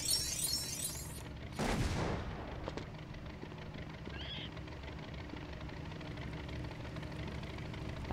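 A sharp explosion bursts out in the Lego Indiana Jones video game, a loud crack with a brief rumbling tail, then low game ambience continues underneath with no speech.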